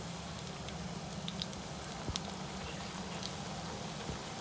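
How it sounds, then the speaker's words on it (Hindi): Potato lachha pakoras fry in hot oil, a faint steady bubbling sizzle with scattered small pops and crackles throughout. "ये देखिए ज़बरदस्त से फ्राई हो रहे हैं"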